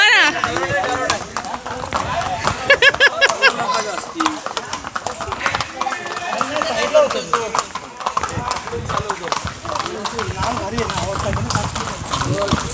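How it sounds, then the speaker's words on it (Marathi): Several horses ridden for tourist rides at Matheran, a hill station, clop along at a walk with irregular overlapping hoof strikes nearby, while people chatter loudly over them throughout. "हे बघा घोडे चालले आता."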